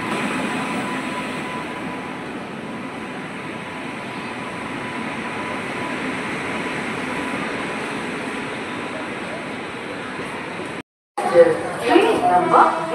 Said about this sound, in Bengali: তো এই দেখো আমাদের ট্রেন ঢুকছে।